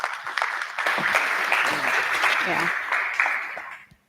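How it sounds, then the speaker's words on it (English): A conference audience applauds a panel moderator for a few seconds with dense, even clapping that swells and then fades out, and a brief voice is heard over it. "So please give a round of applause for Moholo."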